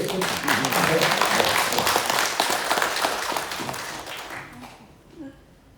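An audience at a book launch breaks into dense clapping that gradually thins and fades to near silence over several seconds.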